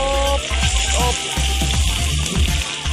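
Food frying in a pan for Thai sour curry with snakehead fish, a steady loud sizzle running throughout with faint stirring and occasional soft voice-like tones underneath.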